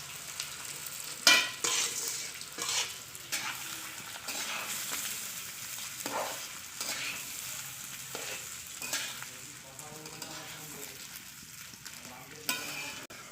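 Marinated rice with fried cashews, raisins, whole garam masala and bay leaves stirred in a pot: repeated close scraping strokes over a light sizzle, with occasional louder knocks against the pot, no voices.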